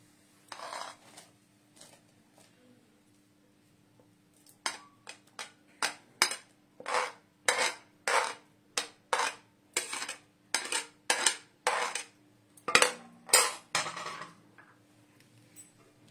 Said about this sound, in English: As there is boil in the milk, I'll add the vegetables to it.